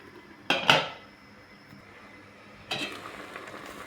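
Metal lid clattering onto a cooking pot of ginataang squash fruit and shoots with shrimp, two sharp clanks close together, then quiet simmering and another clatter near the end.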